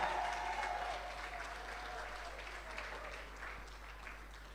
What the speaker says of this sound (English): let's make some more noise for Velderly